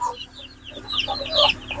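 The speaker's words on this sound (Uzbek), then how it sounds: "Mana bu quru tovuq hozir." Quiet hen clucks and short calls from a broody black Andijan hen in a poultry yard in Namangan, a few close murmuring notes rising toward the end.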